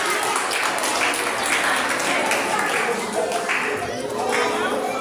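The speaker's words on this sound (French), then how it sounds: "Je vous demande de l'applaudir encore une fois pour la clôture." An audience at a kindergarten end-of-year closing ceremony applauds: continuous, fairly dense clapping with individual hand claps standing out, steady throughout and joined by a few voices in the background.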